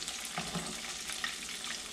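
Breaded buffalo wing loin nuggets frying in hot oil, a close, continuous crackling sizzle with small pops scattered throughout.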